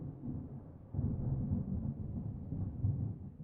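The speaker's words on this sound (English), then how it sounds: "Thunder snow is coming." Low, rolling thunder rumbles steadily from storm clouds during thunder snow, swelling a little louder partway through, with no voices.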